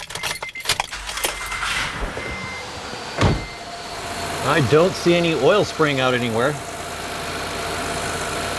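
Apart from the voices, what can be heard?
Honda J series car engine starting and idling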